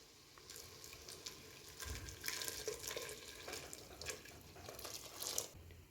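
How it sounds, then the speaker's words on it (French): Water spiced with cinnamon, anise and cloves is poured into a cooking pot, a quiet splashing pour that builds into a steady flow with a few small clinks and drips, and no voices. "maintenant je vais rajouter l'eau avec du cannelle, de l'anis et les graines de girofle"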